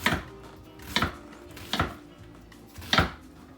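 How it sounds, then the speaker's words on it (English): A knife chops through an onion on a board, four sharp, distinct cuts spaced about a second apart, close and clear with no talking. "That's cutting an onion."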